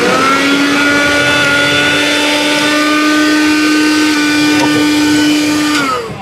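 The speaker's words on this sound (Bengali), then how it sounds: "এই ব্লেন্ডারটা চালু করছে, আর একটু চালান তো দেখি।" A cheap running electric blender, tested at an electronics shop selling old-ship goods, whirs with a loud, steady motor whine held for several seconds before it winds down.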